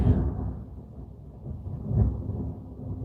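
Rolling thunder during a rainstorm: a deep rumble swells at the start, dips, then surges again about two seconds in, low and heavy with no voices.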